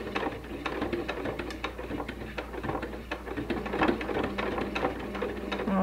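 A sewing machine stitches steadily through bulky quilt seams while piecing pinwheel blocks, giving a close, continuous rapid mechanical whir with fine ticking and no talking.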